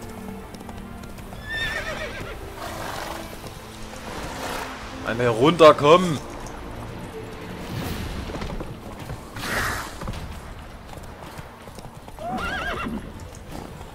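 Hooves clop over uneven ground in the video game The Witcher 3: Hearts of Stone while a horse whinnies a few times, with someone speaking briefly in German over the sounds.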